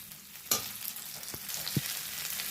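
Ginger paste stirred and fried in a pan for a mixed vegetable dal, heard as a steady frying hiss with a sharp utensil knock early on and a couple of quieter scrapes, close and moderately quiet.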